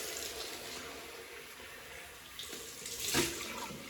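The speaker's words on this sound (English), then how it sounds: "Cold water." Cold water runs steadily from a tap into a basin, with a soft continuous splash that swells briefly near the end.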